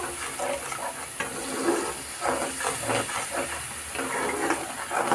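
Water splashes into a hot pan before small fish go in for a Bengali chorchori, giving off a continuous steamy hiss with soft bubbling that holds steady throughout, with no one talking.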